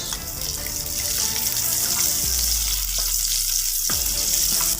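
Onion dropped into a hot pan for chicken adobo sizzles with a loud, continuous, close hiss over a low steady hum, with a couple of soft knocks along the way.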